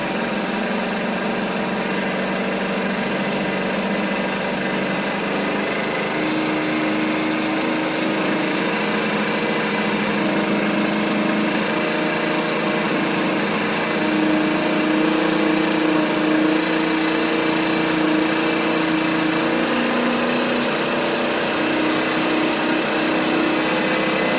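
A 50cc Chinese scooter engine runs at a raised idle, a steady, close, buzzing drone that holds constant with only slight rises in pitch throughout.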